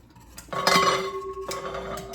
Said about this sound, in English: These grits are still popping because that's what grits do.